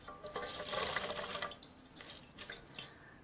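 Hot water runs from a tap into a sink, a steady splashing rush that swells then eases into softer trickles and drips, fairly quiet and close with no talk.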